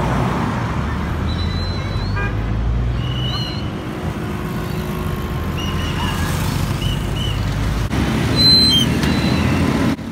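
Steady roadway noise at a busy Ouagadougou intersection where the traffic lights are out, with engines rumbling, a continuous traffic wash and brief higher tones and squeaks cutting through from passing vehicles.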